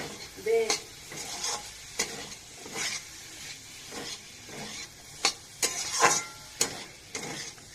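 A spoon stirs a fried spice mix for samosa filling of paneer, cauliflower, potato and peas in a pan, with soft sizzling under repeated sharp scraping strokes at an irregular rhythm, close and clear with no talk.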